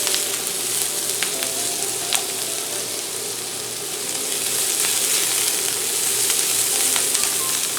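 Garlic sizzles loudly in a hot pan, a dense continuous crackle with occasional scrapes and clicks of stirring, close and steady with no talking.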